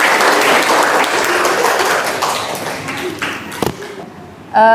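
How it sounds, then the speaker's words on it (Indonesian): Applause from a classroom group during an academic coaching session, a burst of steady clapping that thins out and fades, followed by a brief tonal voice at the end. "kita beri tepuk tangan buat teman."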